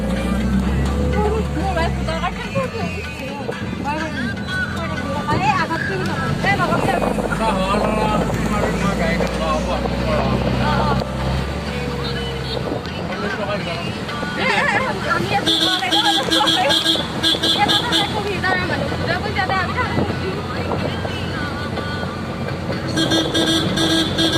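Rumbling engine and road noise of a vehicle carrying people to vote, steady and loud throughout, with wind buffeting, a brief horn toot, and people talking over it.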